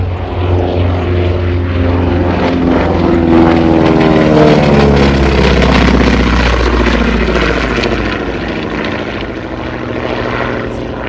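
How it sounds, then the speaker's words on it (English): A Beechcraft C-45 Expediter, the twin-engine Twin Beech, passes with a loud, sustained propeller drone whose pitch slowly sweeps as it moves by during a WWII weekend air show in Reading, Pennsylvania. "From the right, here's the C-45 Expediter. In civilian guise, the Twin Beach."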